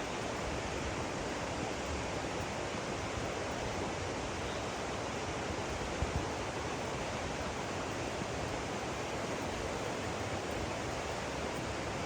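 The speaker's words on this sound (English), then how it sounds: "the sound of the river is nice" Steady, full-band rush of river water near Mossbrae Falls, continuous and fairly loud with no break, one tiny click around midway and no voices.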